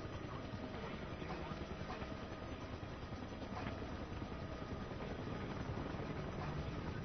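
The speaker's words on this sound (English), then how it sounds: "Helicopter, though." A helicopter in the video game Battlefield: Bad Company 2, a Huey, gives a steady, dense rotor and engine roar that holds at even loudness throughout, close and unbroken.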